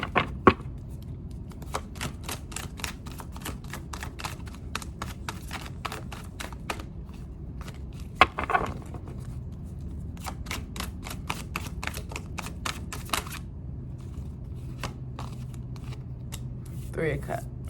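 Tarot cards being shuffled by hand: a long run of quick, crisp papery clicks and flutters at low level, with a few sharper snaps, over a faint steady background.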